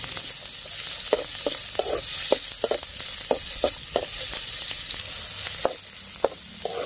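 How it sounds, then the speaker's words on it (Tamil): Onions sauté in hot oil with mustard seeds and chana dal, a steady close sizzle broken by a regular rhythm of sharp stirring scrapes from a spoon against the pan, with no talking. "கடுகு, கடலைப்பருப்பு, எண்ணெய் காஞ்சிச்சு. வெங்காயம் கொஞ்சம் நல்லா வதங்கட்டும்."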